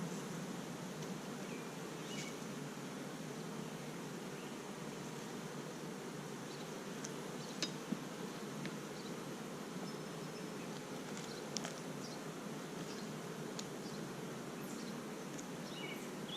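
A honeybee colony buzzes in a steady, even hum while hive frames are lifted during an inspection of a newly installed colony, with a few faint ticks on top.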